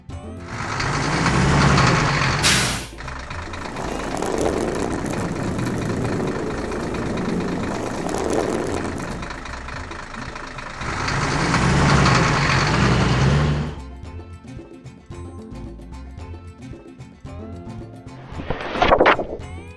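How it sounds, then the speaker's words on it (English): A dump truck engine rumbles and revs loudly up close, swelling and easing over several seconds before dropping to a quieter idle, with a sharp burst near the end. "Dump truck."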